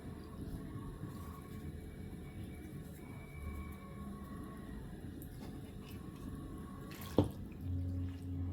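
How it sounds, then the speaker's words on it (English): Water trickles and drips into a bowl as it is added in small amounts to chin chin dough made from 2 kg of flour, a faint close pouring with a sharp knock near the end. "Please note that we're adding the water in bits, so as not to have a watery dough."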